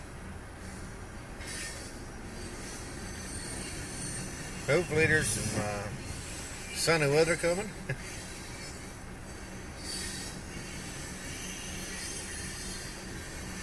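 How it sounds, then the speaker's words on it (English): A coal train rumbles past steadily in the rain in West Newton, Pennsylvania, with metallic wheel squeals cutting through twice, while a person speaks briefly over the rolling noise. "Watching the coal train."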